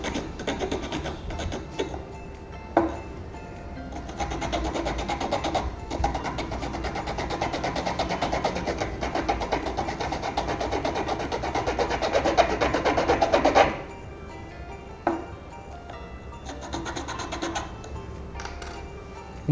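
A bamboo piece is cut for a spoon handle with a steady run of rapid rasping strokes, close and continuous for a long stretch, then stopping, followed by a few shorter bursts of cutting.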